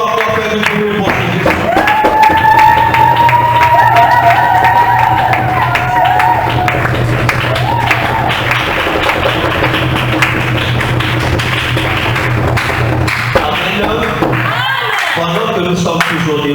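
A church congregation cheers and applauds at a worship service in a loud, dense, sustained roar of clapping and voices. A steady hum runs beneath it the whole time.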